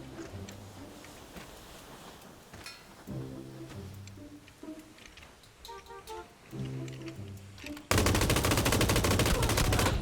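Gunfire from an online shooting game sounds as scattered shots and bursts, mixed with game sounds, before a dense loud barrage of rapid fire at the end.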